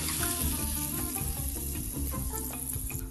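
Mushrooms sizzle in a hot pan with a steady, close frying crackle and light stirring scrapes, with no talking.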